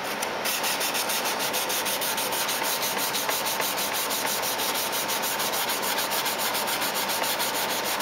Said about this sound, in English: This is sanding out very nice and easy.